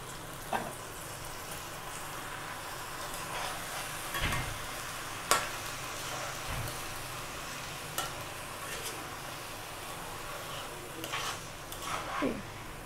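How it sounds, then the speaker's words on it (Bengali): Rice fries in a pan for khichdi, a faint steady sizzle with a few scattered scrapes and clinks of the stirring spoon. No voices are heard. "চালটা ভালো করে ভেজে নিব।"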